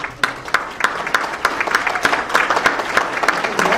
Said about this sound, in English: I think we need to give our incumbent Mayor Matt White a round of applause for receiving.